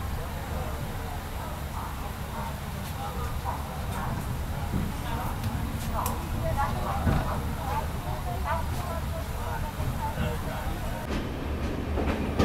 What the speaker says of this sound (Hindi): ये ट्रेन हमारी ट्रेन को ओवरटेक कर रही है।